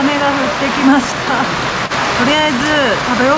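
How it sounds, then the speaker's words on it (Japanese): Heavy rain pours steadily in Chefchaouen, Morocco, a loud broadband wash that runs throughout while people talk over it. "すごい雨が降ってきました。"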